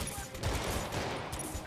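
Gunfire from the Spider-Man Remastered video game on PC, a steady dense barrage of shots running the whole moment under background game sounds.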